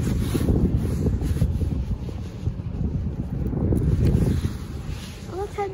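Blustery wind buffets the microphone at a beach, with low rumbling surf of ocean waves underneath, steady and loud throughout; a voice speaks briefly near the end.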